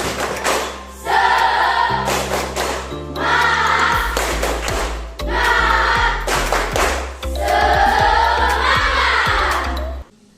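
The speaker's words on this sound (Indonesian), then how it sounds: "Oke, tepuk semangat." A school class does a rhythmic spirit clap, tepuk semangat: loud bursts of patterned group clapping in repeated phrases, punctuated by sharp claps and a deep thumping accompaniment, with crowd voices mixed in.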